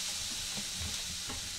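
Hamburger meat frying in a pan for a cowboy casserole, a steady broad sizzle and hiss with faint stirring clinks underneath, close and continuous throughout.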